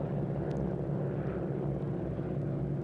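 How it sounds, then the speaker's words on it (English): North American Harvard training aircraft flying in formation at North Weald in 1993, giving a steady, continuous propeller-engine drone with a low rumble that holds at a constant level throughout. "Harvard, the first modern training aeroplane that the Royal Air Force ever possessed."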